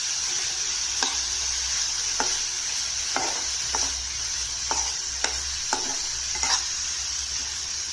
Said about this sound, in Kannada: ತೆಂಗಿನ ತುರಿ ಹಾಕಿದ್ಮೇಲೆ ಚೆನ್ನಾಗಿ ಮೀಡಿಯಮ್ ಉರಿ ಇಟ್ಕೊಂಡು ಚೆನ್ನಾಗಿ ಮಿಕ್ಸ್ ಮಾಡಿ